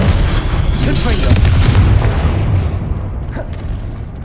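A spell explosion in the Hogwarts Legacy video game bursts with booming, rumbling blasts that crackle over a dense, busy game soundscape, loud and close, settling toward a fading tail.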